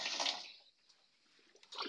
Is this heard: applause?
no